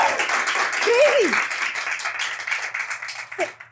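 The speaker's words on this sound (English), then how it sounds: "Wow, this clap lasted a while" A studio audience claps at the start of a talk show season, broad sustained applause that gradually thins and fades, with a brief whoop or vocal cry rising over it.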